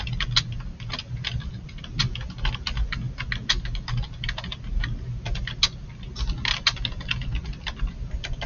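Computer keyboard being typed on, a rapid continuous run of crisp key clicks close up with a low hum underneath, no voices.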